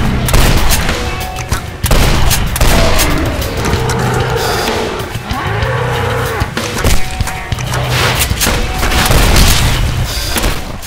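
Rapid booming gunfire rattles continuously from a weapon in the video game Legendary, dense and loud with brief pauses.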